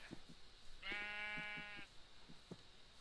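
Blocky sheep in Minecraft with the Hexxit modpack let out one clear, drawn-out bleat with a wavering, buzzy tone, standing out alone between soft game clicks and thuds.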